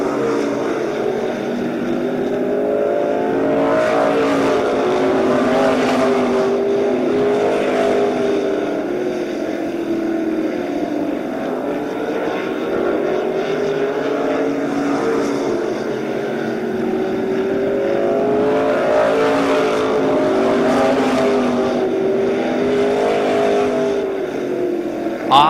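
Race cars roar continuously around a short-track motor speedway during a main event, engines droning and swelling loudly as the pack passes, with waves of rising and falling engine pitch throughout.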